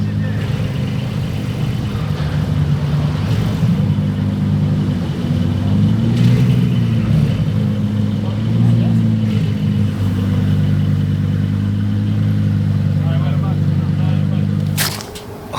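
A Performante sports car engine rumbles at a deep idle, then rises and falls through a few short revs before settling back, loud and close, with voices faintly underneath.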